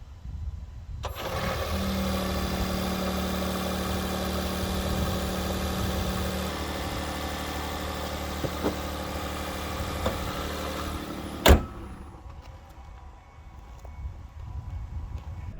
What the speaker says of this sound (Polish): Silnik spalinowy za to słychać, jak się załącza podczas jazdy, ale robi to w bardzo kulturalny sposób